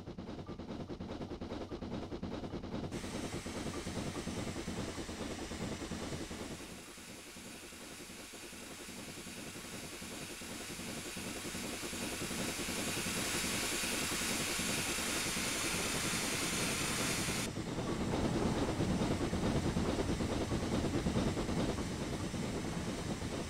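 Steam locomotive sounds from the Train Simulator game, Thomas & Friends add-on, with continuous hissing steam and rapid rhythmic chuffing that grows louder in the second half, alone without talk.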